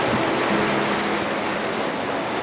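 Ocean waves wash steadily onto a seashore at sunrise, a continuous broad roar of surf with no distinct breaks, loud and close.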